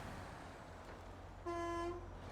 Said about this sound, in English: What's the horn on this thing?